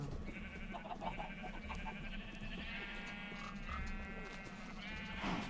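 Several Minecraft sheep bleat in overlapping calls over a steady background hum, the cries wavering and fairly loud.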